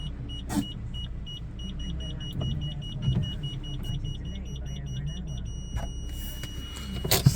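Front parking sensors on a Chevrolet Aveo beep in a steady, evenly spaced series of short electronic tones over a low idling car hum, stopping near the end, with faint voices in the background.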